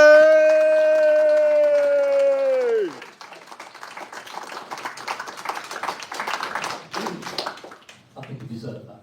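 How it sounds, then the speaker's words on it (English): Audience applause at a UKIP party conference comes in after a long held tone, scattered claps building into irregular clapping with thumps, fading then briefly picking up again. "let's have a round of applause for Ben Walker"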